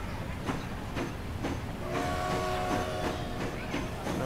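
A freight train in the video game Transport Fever rolls along with rhythmic clacking as a whistle sounds midway, steady and moderately loud with no voices.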